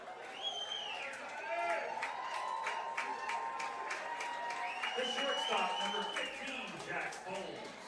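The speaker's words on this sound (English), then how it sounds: "Crowd giving Johnny Wall some credit for his shortstop defense" A baseball stadium crowd claps and cheers at a college game, steady applause with scattered whistles filling the whole stretch, with a commentator talking over it.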